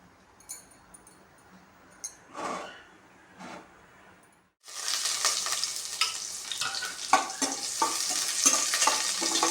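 Garlic frying in hot oil on a heated stone pan, starting with a few faint scrapes and taps, then a sudden loud, steady sizzle with crackling and stirring from about halfway through.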